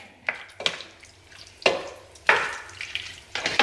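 Thick tomato sauce is stirred in a pot of one-pot lasagna, making a few wet, squelching scrapes spaced about a second apart, close by and fairly quiet, with no talking.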